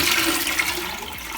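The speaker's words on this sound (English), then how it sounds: "as soon as I flush this button, press this button, my flush system works" Water rushes from a Thomas Dudley dual flush Niagara toilet cistern in a bathroom, a close, steady flushing gush lasting the whole short moment with no talk.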